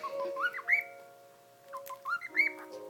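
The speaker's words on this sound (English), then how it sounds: "the one that's whistling and talking and stuff is the gray one, which is Silver" A gray cockatiel whistles short rising and falling phrases indoors, close and clear, in two bursts separated by a brief pause.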